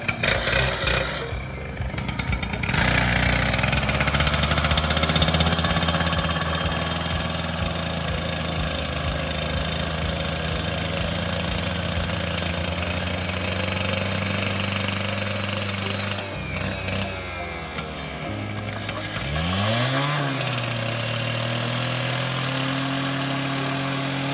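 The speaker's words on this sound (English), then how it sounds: "we wanted to show you guys our product being cut with a handheld saw" A handheld power saw cutting exterior porcelain paving tile gives a loud, continuous whine and grinding roar that carries on steadily for a long stretch, with a brief dip and a pitch sweep near the end.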